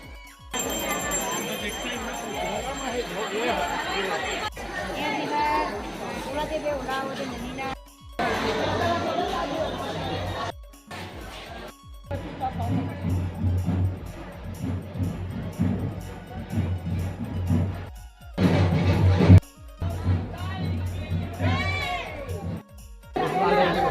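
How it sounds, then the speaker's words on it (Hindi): A dense crowd murmurs and chatters at the Shivrinarayan Magh Purnima temple fair, with a steady, loud wash of overlapping voices, faint bells and jingles, and occasional clip-clop. "यहाँ पर काफी भीड़ है।"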